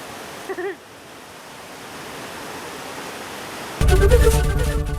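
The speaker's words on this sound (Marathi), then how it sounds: "मुसळधार पावसामुळे देभोल नदीला पूर आलेला असून" A river swollen by heavy rain in Gujarat rushes in flood, a steady broadband roar of water that grows louder toward the end, with a brief voice near the start.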